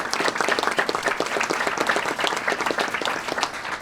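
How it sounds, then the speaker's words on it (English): Applause from the audience at a One Summer Chicago press conference, with many hands clapping in a fairly close, lively, continuous burst and no talk. "Let's give them all a warm round of applause"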